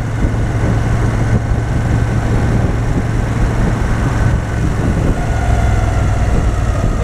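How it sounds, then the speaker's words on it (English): Moto Guzzi V7 III with a pushrod V-twin engine cruising on a motorway at night, a loud, steady low drone with a constant hum throughout and no talking. "engine is a V-twin"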